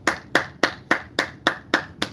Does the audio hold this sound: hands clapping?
yes